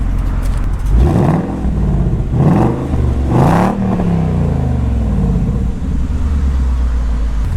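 Ford Mustang V8 of about 450 hp revving in sport mode with exhaust valves, giving three loud, deep throttle blips in quick succession, then settling into a rumbling idle, close up and alone.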